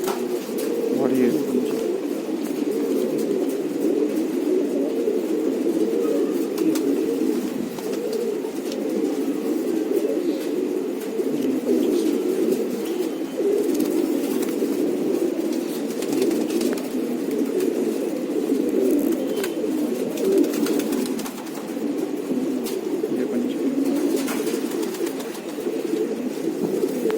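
Khatang pigeons coo in a steady, low murmuring drone that runs the whole time, with a dense flock sound close by and occasional faint rustles.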